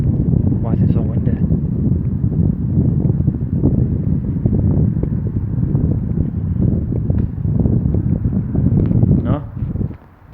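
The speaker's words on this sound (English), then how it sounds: "Why is it so windy?" Wind blows hard into the microphone inside a railway tunnel, a loud constant low rumble and buffeting that covers the whole stretch, with a few faint voices in the background before it cuts off at the end.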